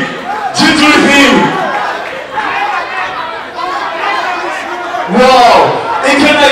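Fans at a Nigeria versus DR Congo kickboxing fight cheer and shout for their fighter, a loud crowd roar that swells and dips in waves, with voices yelling close by.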